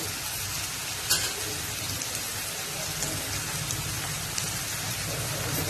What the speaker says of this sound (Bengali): এখন দিয়ে দেবো কেটে রাখা ফুলকপি কুচিগুলো।